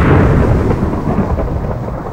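A Minecraft thunder strike booms loudly, a deep rumbling crash that rolls and fades over a couple of seconds.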